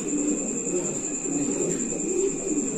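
Lahori pigeons cooing at a pigeon farm, low soft coos repeating steadily in a close, continuous murmur over a constant high electrical hum, with faint background noise throughout.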